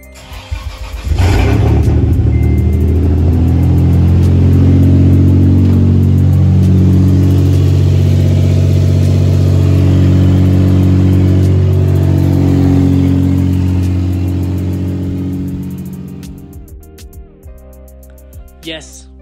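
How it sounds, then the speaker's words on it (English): A Toyota FJ Cruiser engine cranks and catches at close range, then idles roughly and revs loudly for several seconds before settling and cutting out, with brief voices near the end. "We got the engine back up and running."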